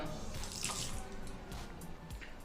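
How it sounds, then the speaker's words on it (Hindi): A small amount of water is poured into a chicken marinade of lemon juice and vinegar, a soft quiet trickle and splash with faint drips, close by and low in level with no talk. "और 1 से 2 टेबलस्पून पानी।"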